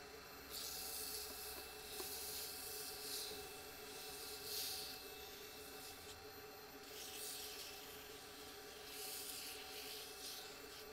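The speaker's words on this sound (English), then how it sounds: "When sanding resin, it's always best to do it wet, and I just like to use a bit of water." Resin being wet sanded by hand with sandpaper and a little water: faint, steady rubbing strokes that swell and fade in a slow rhythm, close up with no talk.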